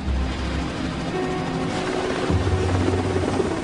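Steady Sea King helicopter rotor drone with a low throbbing hum, sustained and fairly loud throughout, no voices.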